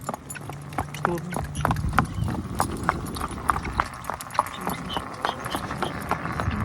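A mare ridden along a road at a steady gait, her hooves clip-clopping in a quick, regular rhythm of close, crisp strikes over a low background hum with faint voices.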